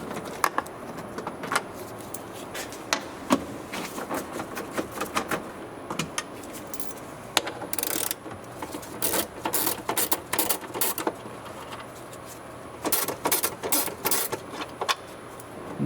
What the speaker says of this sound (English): will use 8mm socket to remove 4 bolts, 2 on the top and 2 on the inside